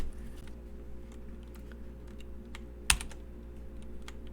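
Key presses on a computer keyboard for the Control+I shortcut: a few soft taps under a steady low electrical hum, with one sharper click standing out near the end.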